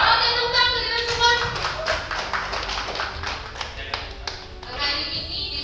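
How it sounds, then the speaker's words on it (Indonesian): A morning gathering audience in a community meeting room breaks into applause, a burst of many hands clapping and tapping that trails off over a few seconds, with voices mixed in. "Oke, tepuk tangan kita semua."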